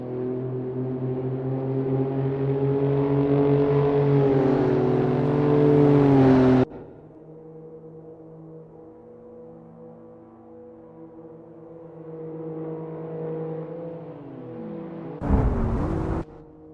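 Citroen C1 Racing car engine in Assetto Corsa at Oulton Park, a steady loud drone rising in pitch under acceleration, then a sharp drop as revs fall, another steady stretch and a brief burst of noise near the end.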